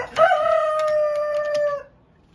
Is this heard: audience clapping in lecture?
no